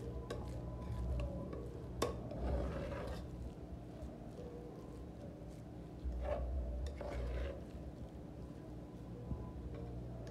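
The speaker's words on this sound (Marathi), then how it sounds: "आता हे मिश्रण चांगलं मिक्स करून घ्यायचं आहे." Modak mixture being stirred with ghee in a kitchen, soft scraping and clinking of a spoon against a bowl, quiet and intermittent, with a few sharper taps and no voices.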